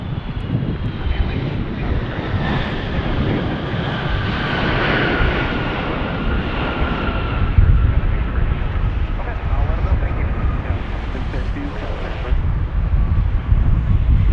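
An Airbus A350 airliner coming in to land in a 20-knot crosswind at Las Vegas, a loud, continuous roaring jet engine drone with wind buffeting on the microphone, sustained throughout.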